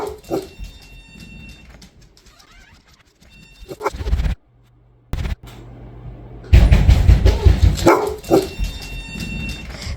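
Timber, a dog fitted with a bark collar, gives a few sharp barks and whimpers close by. Quiet gaps fall between them, and a short steady tone sounds midway, then more barking and movement follow.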